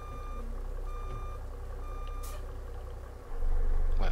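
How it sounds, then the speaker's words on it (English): Reversing beeps from a pickup truck in American Truck Simulator, a slow regular series of electronic tones over a low idling engine drone that grows louder near the end. "let me back up here if it lets me"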